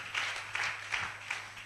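A church congregation claps during a sermon, rhythmic bursts of applause pulsing steadily at moderate distance, fairly soft and brief.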